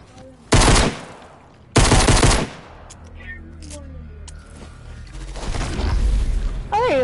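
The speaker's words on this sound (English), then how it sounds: "I'm shooting you." Automatic gunfire in Fortnite, two loud sustained bursts near the start followed by quieter scattered shots and game sounds, with a player's voice talking and exclaiming underneath.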